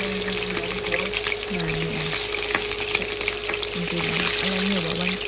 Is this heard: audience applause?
no